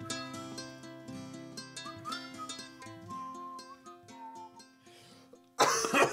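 A single sharp, loud cough bursts out at the end, right after a stretch of bright tuneful music.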